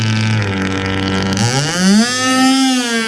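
An RC powerboat's nitro engine with a tuned pipe drones at a steady pitch, then sweeps sharply upward into a loud, high, buzzing scream as it accelerates and holds near the top.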